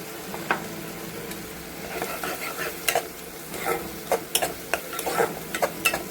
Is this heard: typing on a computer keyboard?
no